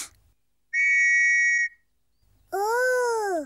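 A cartoon whistle blown twice: a short, steady high toot, a pause, then a longer note that swoops and wavers in pitch, clear and close with no talk.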